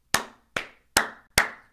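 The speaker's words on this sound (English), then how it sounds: "Sorry, I didn't mean to clap in everybody's ear." Four sharp, loud hand claps ring out alone at a steady, even pace, each one close and crisp with a short decay.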